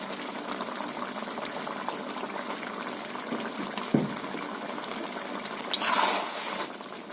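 Chili dropped into a simmering fish curry with potato and tomato, a soft plop and brief splash over a steady low bubbling, then a louder stir near the end, with no voices.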